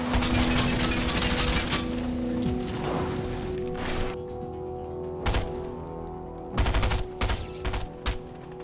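Rapid bursts of automatic gunfire crackle loudly through a Fortnite match, with sustained volleys early on and more separated clusters of shots later, set against steady game background noise.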